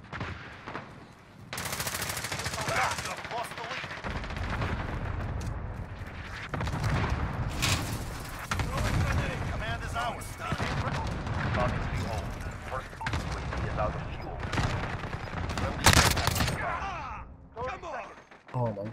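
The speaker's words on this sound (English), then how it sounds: "Allied cluster strike incoming." Dense Call of Duty battle din: rapid machine-gun fire and heavy booming blasts from an allied cluster strike, nearly continuous and loud, with voices talking through the chaos.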